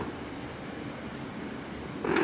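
A pet cat purrs close up in a steady, continuous rumble that swells slightly louder near the end. Nobody speaks over it.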